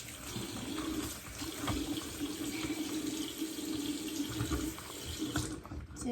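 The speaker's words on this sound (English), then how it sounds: "let me turn this water on" A household tap runs in a sink, a steady close hiss of flowing water that holds for several seconds and then cuts off near the end, with no one talking.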